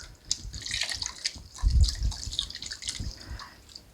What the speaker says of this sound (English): Just kind of give it a good stir.